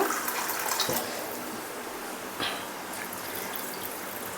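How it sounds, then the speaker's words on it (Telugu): Water poured gradually into a bowl of soaked poha batter for instant appam, a close continuous splashing pour that eases slightly after the first second, alone without speech. "కొద్ది కొద్దిగా వాటర్ యాడ్ చేసుకుందామండి ఒకటేసారి యాడ్ చేసుకోకండి"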